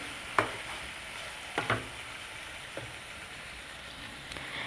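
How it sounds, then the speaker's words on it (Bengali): Ginger-garlic paste is stirred into chicken in a pan, a few scraping knocks of the spoon landing over a low, continuous sizzle, close and quiet, with no one speaking. "আদা রসুনের পেস্টটাকে দিয়ে দিয়েছি, এখন একটু নাড়াচাড়া করে মিশিয়ে নিচ্ছি।"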